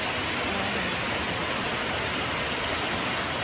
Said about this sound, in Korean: 이렇게 이런 폭포를 볼 수 있는 게